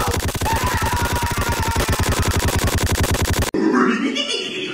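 AK-47 fire from a homemade GTA-style game rattles off in a rapid, steady automatic burst of evenly spaced loud shots for about three and a half seconds, then cuts abruptly into a brief noisy whoosh.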